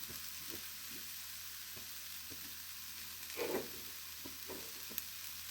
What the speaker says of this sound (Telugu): ఇప్పుడు ఉల్లిపాయలు వేగుతున్నాయండి.